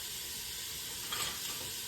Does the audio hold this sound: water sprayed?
no